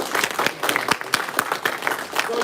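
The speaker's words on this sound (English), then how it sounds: "round of applause" A small crowd claps at a Brazilian jiu-jitsu belt promotion ceremony in a gym, the individual hand claps fairly distinct and close, a lively uneven round of applause with a few scattered voices mixed in.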